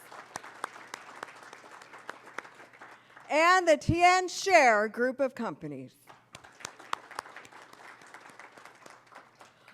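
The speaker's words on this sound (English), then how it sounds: "a round of applause" Light audience clapping at an industry forum runs under and around a man's announcement, sparse claps continuing before and after he speaks.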